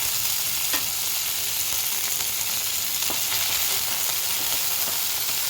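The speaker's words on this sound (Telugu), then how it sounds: "అదే ఆయిల్లో పుదీనా వేసుకోవాలి." Mint leaves fry in hot oil with a steady, close hiss and crackle, joined by a few soft stirring taps, with no talk.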